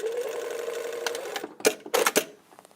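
A sewing machine runs a short steady burst stitching a blazer lapel seam, then stops, followed by a few sharp clicks and handling knocks, close and fairly quiet.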